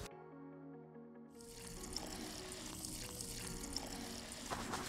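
Water poured over a mix of 2 mm and 4 mm fishing pellets to soak them for method feeder bait, a steady close splashing trickle running continuously after a brief quiet start.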